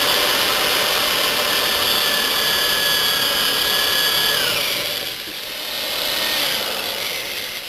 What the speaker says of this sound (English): So the next thing we're going to do is we're going to drill the holes in the top.